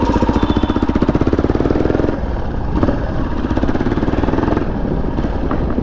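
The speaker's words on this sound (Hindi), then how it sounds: "आपको इसकी मैं एक आवाज़ सुना देता हूँ कि रेड रूस्टर एग्जॉस्ट में ये बाइक साउंड कैसे करती है।" A Royal Enfield Classic 350 motorcycle with a Red Rooster aftermarket exhaust idles and revs up close, giving a loud, rapid single-cylinder thump that holds steady throughout.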